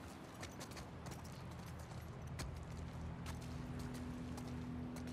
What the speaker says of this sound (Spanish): ¿el caballo de Tommy?